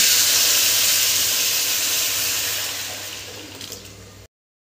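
A spice paste for butter chicken, with Kashmiri red chili, sizzles and bubbles steadily in a hot pan, a loud, continuous hiss heard close up that fades toward the end.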